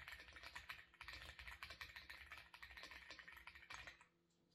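Quick typing on a full-size mechanical computer keyboard with arrow keys, a steady rattle of close, crisp key clicks in bursts that stops abruptly near the end.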